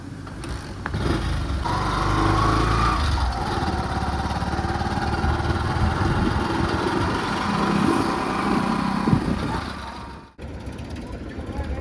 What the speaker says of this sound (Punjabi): ਟਰੈਕਟਰ ਪਾ ਲਿਆ ਇਹਨਾਂ ਨੇ